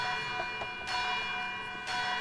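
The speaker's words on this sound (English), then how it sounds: "you basically hear a alarm bell going off in the distance" A distant bell clangs twice at a slow, even interval, each strike ringing out with a bright metallic tone over faint background hiss, used as a tabletop game sound effect.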